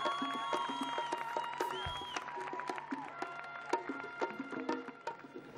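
A carnival crowd applauds and cheers to welcome a murga, a fairly faint, continuous wash of clapping with scattered whoops and music tones in the background.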